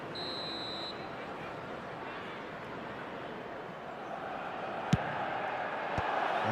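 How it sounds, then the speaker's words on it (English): Stadium crowd in an eFootball match involving Chelsea roars in a broad, steady wash of cheering, with a couple of sharp peaks rising near the end. "certainly gave this crowd something to really cheer about"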